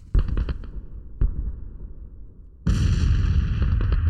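Booming artillery fire on a Civil War battlefield in a strategy game, a quick run of rattling blasts, one lone thump, then a sustained roar of cannon fire, loud and somewhat distant.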